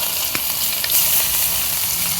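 Crushed garlic dropped into hot oil left from frying pangas fish, producing a loud, continuous close-up hiss and sizzle with a few small pops and no talking.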